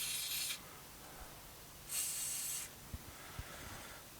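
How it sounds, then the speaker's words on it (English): WD-40 aerosol sprayed through a David Brown 990 tractor's diesel injector nozzle: two loud hissing bursts, each about half a second long, separated by a quiet pause and followed by a couple of faint clicks. "We'll blow a bit of WD-40 through the injector to make sure it's clean."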